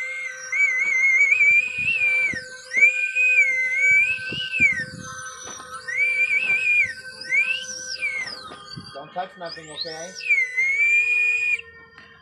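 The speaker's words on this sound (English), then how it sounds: "That's the bird whistle." A slide bird whistle made in Indonesia, blown and slid to give a run of warbling, swooping chirps in repeated phrases, close and fairly loud, with a brief spoken line near the end.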